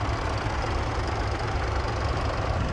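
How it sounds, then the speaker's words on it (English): A rough, chugging three-wheeler tractor engine rumbles steadily at close range at a large village show, a low knocking drone that holds at a constant level throughout. "There's some tractor things going off here"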